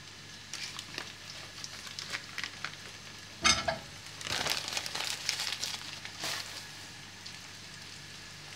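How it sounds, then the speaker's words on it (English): Two tablespoons of butter melting in a pan for a Russian mushroom julienne, giving a soft, steady sizzle with crackly bursts and a louder scraping stir midway, heard alone without talk. "And then we put butter around 2 tablespoons."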